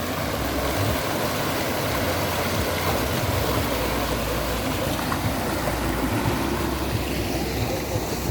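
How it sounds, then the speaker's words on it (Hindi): A clear mountain stream near Dharamshala babbles over stones, a continuous close rush of flowing water with a steady low rumble underneath and no voices. "पानी की नेचुरल आवाज़ जो है, कल कल की आवाज़ बहुत खूबसूरत आ रही है"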